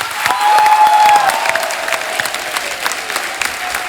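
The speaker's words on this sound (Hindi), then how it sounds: "जोरदार तालियां होनी चाहिए यार" A studio audience at a televised Hindi comedy show bursts into loud, sustained applause for four finalists, dense clapping close and full, tapering slightly toward the end.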